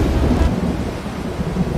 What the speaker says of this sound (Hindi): कभी आसमान से बरसती बेरहम बारिशें